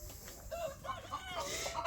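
Farmyard chickens and a rooster clucking in a mixed flock with turkeys, ducks, guineas and quail, several short overlapping calls at moderate distance with a busy, rustling background.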